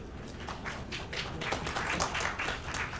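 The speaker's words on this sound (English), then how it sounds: "That's like the worst clap ever" A small group of kids at a school session claps feebly, a thin scattering of uneven hand claps at low volume with no talk.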